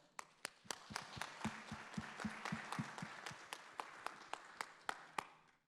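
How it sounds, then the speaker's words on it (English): Faint, sparse applause at a panel discussion on the next-generation workforce, a handful of distinct claps standing out in an irregular rhythm over a thin wash of clapping lasting several seconds. "Could you kindly give a round of applause to her?"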